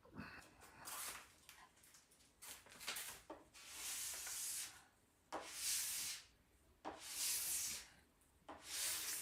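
Wax is scraped off a snowboard in a series of rasping strokes, each a soft, breathy scrape close by with short pauses between them, growing steadier and more regular as the passes continue.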